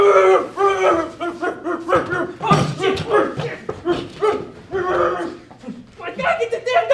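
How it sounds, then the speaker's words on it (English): A dog yips, barks and whimpers up close in quick excited bursts, mixed in with overlapping human voices talking over it. "I gotta get the damn dog off me!"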